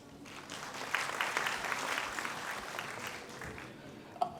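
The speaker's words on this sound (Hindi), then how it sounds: "उनके स्वागत संबोधन के लिए जोरदार तालियां।" Hall audience at a government event for the Nanda Gaura scheme fund transfer, hosted by the women empowerment and child development department, breaks into sustained applause, many hands clapping evenly at moderate distance for several seconds.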